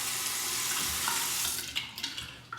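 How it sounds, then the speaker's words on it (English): Hot tap water runs steadily over a safety razor held close, a hissing, splashing stream that breaks into a few sharper splatters and knocks near the end, with no talking. "Let's warm it up under the hot water."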